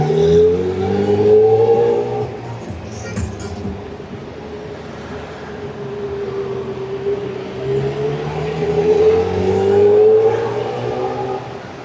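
A motorbike engine hums through London rush-hour traffic near London Bridge, a sustained drone that swells and fades as it revs, with no voices.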